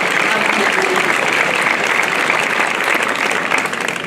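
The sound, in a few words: audience applauding at St Etienne de Tinée festival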